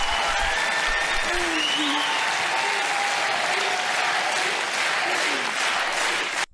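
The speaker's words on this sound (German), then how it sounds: "das ist ein Applaus wert" Steady applause from a studio audience fills the clip, dense and continuous, with a few voices calling out over the clapping.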